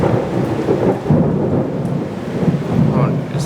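Deep, rolling thunder from close lightning strikes in southeastern Pennsylvania rumbles continuously with rain hissing in the background, loud and close, with no clear talking.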